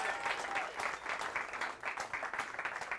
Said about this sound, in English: Round of applause for Jim.